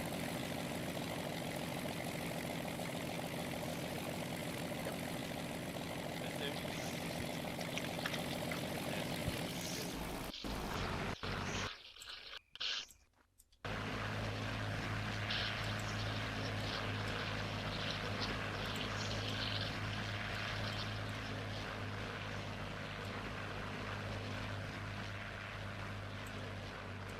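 A P-39 Airacobra in Second Life holds a steady, loud engine and propeller drone that drops out briefly in the middle, then returns with a strong low hum through a long takeoff run. There is no speech.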